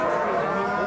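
A cow at a traditional livestock fair in Beaucroissant lets out a sustained, deep moo, loud and close, filling the whole moment.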